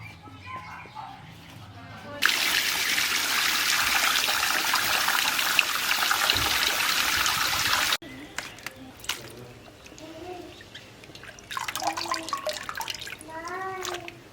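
Young pumpkin greens are washed under running water, a steady loud gush followed by softer splashing and dribbling as leaves are handled, with birds chirping in the background.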